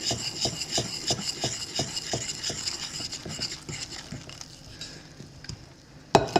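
A melted mixture being stirred in a bowl, with repeated rhythmic scraping and rubbing strokes close by, steady for several seconds before slowing, then a sharp clink of utensil against the bowl near the end.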